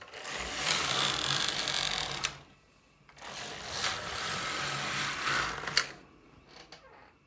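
A Singer double bed knitting machine round knits alpaca wool at stitch size 2, the carriage sliding across in two rattling, whirring passes of about two and three seconds, separated by a short quiet gap and ending with faint clicks.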